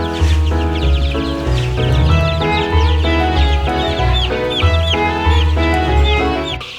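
Many chickens, 23 days old, cluck loudly and continuously inside a chicken house, a dense overlapping chorus of short calls filling the enclosed space.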